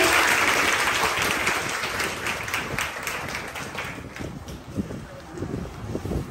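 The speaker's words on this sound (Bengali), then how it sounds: "একটা জোরে হাততালি দিয়ে" A crowd claps steadily, loud at first and gradually thinning out, with a few scattered claps near the end.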